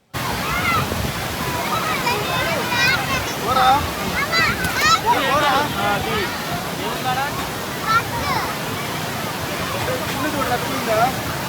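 Water pouring from a small canal at a crowded riverside spot on the Penna near Nellore, a steady rushing splash throughout, with many children and adults chattering and shouting over it.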